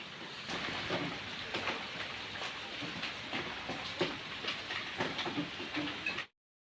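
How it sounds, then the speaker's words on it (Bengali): Heavy rain falls outside, heard from indoors as a dense, steady broadband wash with faint pattering, continuous for several seconds before cutting off abruptly. "বাইরেটা ঘর থেকেই দেখতে হচ্ছে কারণ বিশাল বৃষ্টি পড়ছে বেরোতে পারবো না"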